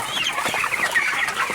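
Broiler chickens about 22 days old cluck and chirp continuously in a dense, steady chorus of overlapping calls, close by, with no talking.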